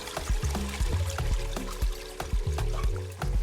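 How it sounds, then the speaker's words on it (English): An egg and caramel mixture is poured into caramel in a pan, giving a close series of soft glugs and liquid splatters with brief pauses between them. "pour the egg caramel mixture into the rest of the caramel in the pan"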